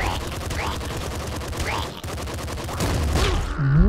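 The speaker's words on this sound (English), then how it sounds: "Whoa, the shotgun guy got me." Enemy shotgun blasts and rapid gunfire fill the roguelike video game Nuclear Throne. A dense, steady barrage of retro shots is joined by chirpy game effects near the end.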